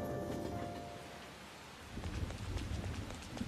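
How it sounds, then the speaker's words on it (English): Rain falls in the game Persona 5 as a soft, steady patter and hiss, quiet and continuous, swelling slightly louder toward the end with no voices. "It's raining."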